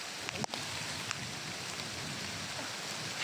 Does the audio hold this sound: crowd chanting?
no